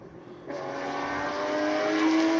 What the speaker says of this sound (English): Glorious Porsche in all its noises making up the hill.